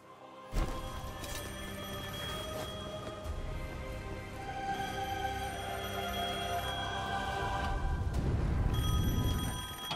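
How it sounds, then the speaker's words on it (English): A telephone rings in the Devil May Cry 5 video game amid a dense, continuous game soundscape, with the tones running steadily for about ten seconds and the sound swelling slightly toward the end. "Phone still works."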